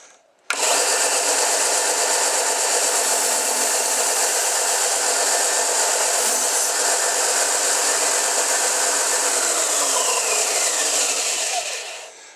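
A sanding disc is cleaned while spinning on a Prime Mover 4 machine, a loud, steady high-pitched whir for about twelve seconds, its grinding abrasive tone holding constant before winding down at the end.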